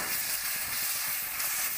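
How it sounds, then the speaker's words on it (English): Tomato pieces frying in a pan with cumin and coriander powder for an Assamese tender jackfruit dish, a steady close sizzle with no talking. "While that's frying, we'll now put in the"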